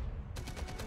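Rapid burst of gunfire in the World War II shooter Enemy Front, a run of evenly spaced loud cracks after a brief low rumble, with no voices.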